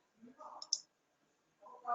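A computer mouse clicks a link in hospital clinical software, giving a couple of faint, sharp clicks between soft bits of nearby speech.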